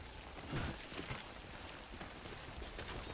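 Timefall rain in the video game Death Stranding, a steady broadband hiss of rainfall with soft patter on surfaces, continuous and even throughout with no voices.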